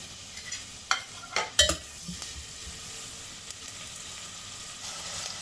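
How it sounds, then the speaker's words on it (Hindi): Onions sizzle and fry in hot oil in a pressure cooker while a spoon stirs and scrapes in a few sharp clatters, then a steady soft sizzle continues. "प्याज को हम लाइट ब्राउन होने तक भून लेंगे।"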